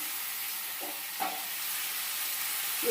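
Tomatoes stirred with salt and turmeric in a pan over a medium gas flame, giving a soft, steady sizzle with a few faint scraping strokes of the spoon.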